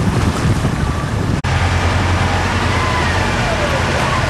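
Small boat engine idling at tick over on the River Itchen near Southampton, a loud steady low rumble mixed with wind and water noise, no talking.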